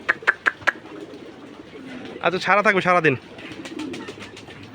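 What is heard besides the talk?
pigeons landing and cooing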